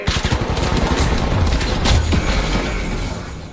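AK rifle fire in the video game The Finals, a loud rapid burst of automatic shots with a sharp crackling rhythm, then heavier booming impacts that trail off, with no talk.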